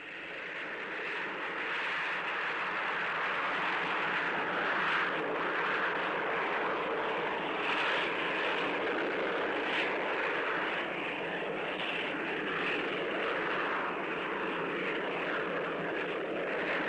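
Continuous roar of a naval jet aircraft taking off from a carrier flight deck, a broad, steady, loud rushing engine noise sustained throughout without any voices.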